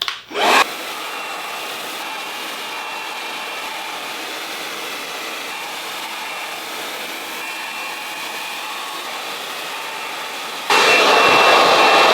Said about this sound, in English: I'm gonna use the GHD Helios, highest heat setting, highest speed.